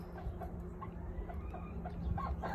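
Soft clucking from a hen mixed with faint, high peeping of newly hatched chicks, continuous and close, with low rustling underneath.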